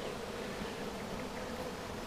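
A swarm of honey bees, taken down from a spruce tree and being moved into a new hive, hums in a steady, dense, continuous drone that stays close and fairly loud throughout, with no voices.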